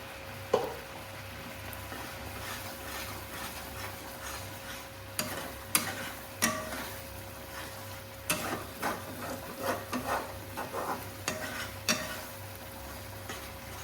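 A spoonful of ghee is added to patishapta filling in a kadai and stirred, giving close, soft scraping strokes and a faint sizzle punctuated by occasional sharp knocks of the spoon against the pan.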